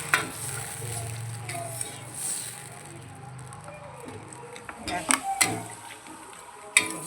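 Water hits a hot pan of chilli paneer and sizzles steadily in a home kitchen, with scattered clinks of a utensil against the pan near the end.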